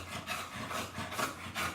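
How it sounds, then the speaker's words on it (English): Brushing the coat of an American Bully dog, a soft rhythmic rasping rub repeating in short strokes about every quarter second, close and moderately quiet with no talk. "We need to really brush here."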